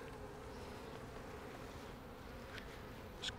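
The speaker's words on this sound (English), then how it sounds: "And these are all nurse bees." Honey bees, nurse bees on a brood frame of a hive, buzzing in a dense steady drone, close and continuous with no voices.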